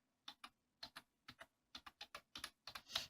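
Typing on an LG K-4000 keyboard: about sixteen crisp, quiet key presses in short irregular bursts, close up and alone with no talk.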